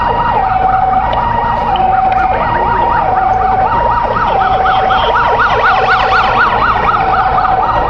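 An ambulance siren wails loud and close at an airport emergency, its rising and falling tone repeating steadily over a constant engine rumble.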